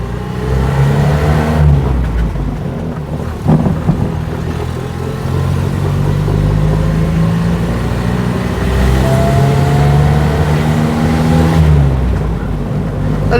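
NSU Prinz 4 engine accelerating through the gears of its 4-speed synchromesh gearbox, loud buzzy revs rising in pitch, dropping at each shift and climbing again, heard close from inside the car.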